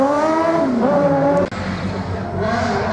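A slalom race car with a motorcycle engine and tubular chassis, loud and close, engine note rising and falling through gear changes with a brief cut midway, crowd ambience and a commentator's voice in the background.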